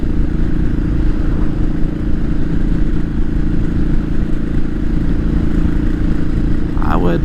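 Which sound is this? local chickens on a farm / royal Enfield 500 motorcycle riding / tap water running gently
royal Enfield 500 motorcycle riding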